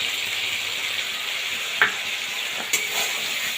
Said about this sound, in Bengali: খুব ভালোভাবে কষিয়ে নেব দেখুন অলরেডি তেল ছাড়তে শুরু করেছে